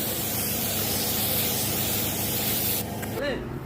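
Spray gun painting a putty-repaired TVS motorcycle mudguard: a loud, continuous close hiss of spray that cuts off near the end, with someone talking over it.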